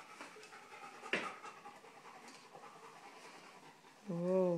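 A dog pants steadily in rapid, soft breaths, with a sharp knock partway through and a brief whining cry at the end, quiet and close.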